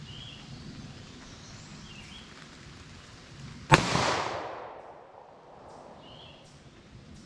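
A single sharp report from a 9mm short-barrel handgun firing Fiocchi CovertX ammunition at a 75-yard target, loud and close, with a long decaying echo rolling off afterward against quiet outdoor ambience.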